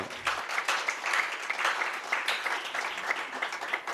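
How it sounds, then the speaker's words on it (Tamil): A church congregation at a special mission service for the blind breaks into a burst of applause, a fairly close, dense patter of clapping that holds steady for a few seconds. "நீங்கள் ஒரு ஜோராக ஒரு கைத்தட்டு தட்டினீங்கன்னா"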